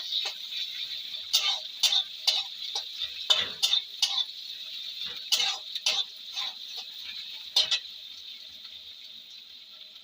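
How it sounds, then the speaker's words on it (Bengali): A spoon stirs chopped onions frying in a pan, with a series of sharp scraping clicks and taps over a constant high sizzle, irregular and close by. "পেঁয়াজ কুচি এবার একবার নেড়ে দেবো"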